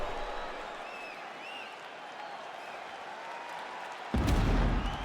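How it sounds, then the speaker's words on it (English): An arena crowd at a UFC 5 video game fight applauds steadily after a round, a broad wash of clapping and cheering that swells louder near the end. "the crowd voicing its appreciation after that round"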